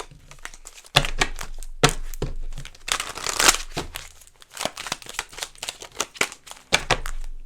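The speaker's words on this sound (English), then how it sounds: "I haven't used this deck in a long time, but I love the way it shuffles." A deck of tarot cards being shuffled by hand, a run of crisp riffling bursts and flicks, close and loud, with brief pauses between shuffles.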